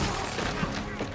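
Rapid gunfire from a gun in a Batman video game, a brief dense burst of shots under game noise and talk.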